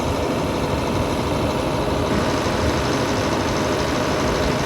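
A semi truck's engine idles steadily during a farm grain harvest, a loud, continuous low rumble with no break and no voices.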